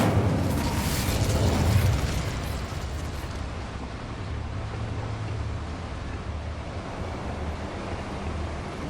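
An Incendio fire spell cast in Hogwarts Legacy VR: a heavy, booming burst up front that fades into a steady roaring, crackling rumble.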